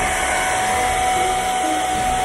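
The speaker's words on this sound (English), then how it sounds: "If you grab your blow dryer, okay, let me show you what will happen" A handheld blow dryer runs at steady, close range over wet watercolor paint, a constant loud whirring hiss with a thin motor whine and no pauses, with no one talking over it.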